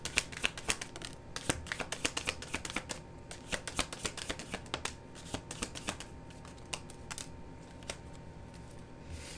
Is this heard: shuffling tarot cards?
yes